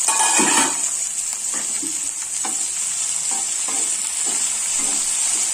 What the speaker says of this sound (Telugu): ఇలా బాగా కలుపుకుంటూ మగ్గనించుకోవాలి